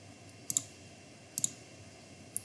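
Computer mouse clicks while browsing through options in a program, arriving as quick double clicks spaced about a second apart, crisp and close against a quiet background with no talking.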